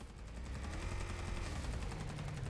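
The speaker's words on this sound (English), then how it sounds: "we got some gunfire going on here." Rapid automatic gunfire in a battle royale video game, a dense unbroken stream of shots rattling on for a couple of seconds at moderate loudness, with no voices over it.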